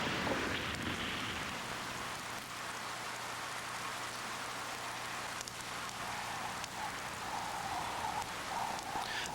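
Steady rain falling across a landscape of volcanic ash, a dense continuous hiss that stays even throughout, with a faint low hum beneath it.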